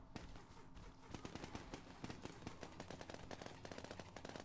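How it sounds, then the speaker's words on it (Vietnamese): Minigun rattling off rapid continuous bursts in the Happy Room video game, a dense, fast stream of gunfire with sharp repeated cracks, sustained and loud, with no talk. "Wow, cái minigun bắn ghê quá"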